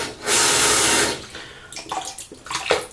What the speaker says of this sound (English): draining the hot water out of the scuttle